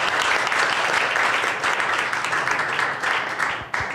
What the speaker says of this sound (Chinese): 我们用掌声欢迎她。